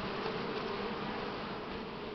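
Buckfast honey bees buzz steadily at an open hive, a dense continuous drone heard close and alone.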